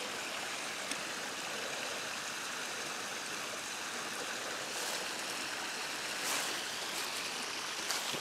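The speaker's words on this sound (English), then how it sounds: "just wanted to show this really pretty stream" A pretty woodland stream with a small waterfall nearby rushes and splashes in a steady, even wash of water, fairly close and uninterrupted, with no voices.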